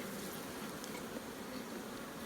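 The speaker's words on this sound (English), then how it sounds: "really good looking box of bees" Honeybees in a nuc box make a dense, steady buzz that stays up close and even with no pauses, and no voices over it.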